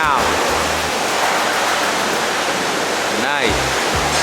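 A truck is washed at a truck wash, with a loud, steady roar of spraying water throughout, close and unbroken, plus a brief whooshing sweep near the end.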